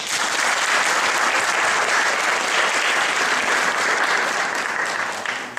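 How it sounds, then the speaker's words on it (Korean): A church congregation gives a steady, loud round of applause at a Bible revival meeting in Sydney, the dense clapping holding evenly for several seconds with no voices over it. "한번 영광의 박수 드릴까요?"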